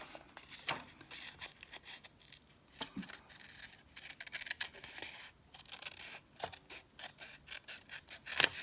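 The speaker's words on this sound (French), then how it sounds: "pour ça, j'ai mes ciseaux" Scissors cut through cardboard gift box pieces nearby, with irregular snips and scraping crunches spread through the clip at a quiet level.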